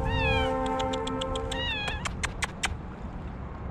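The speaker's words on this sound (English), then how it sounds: "Meow. Meow. Meow." A cat meows in a clear, drawn-out series of calls, loud and close, with a few short higher cries near the end and no talking over it.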